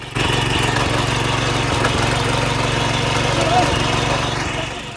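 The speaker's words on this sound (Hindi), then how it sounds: "ये अपने नए ट्रैक्टर पर हाथ आजमा रहे हैं।" A new tractor engine runs with a steady, rhythmic mid-pitched chug close by in a village setting, a constant loud drone with regular knocking pulses and a voice briefly heard over it.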